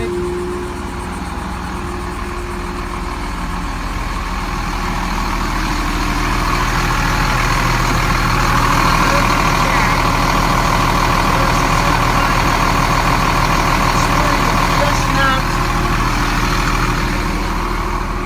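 An RV engine idles with a steady low rumble, close and continuous, with a faint mechanical whir rising partway through.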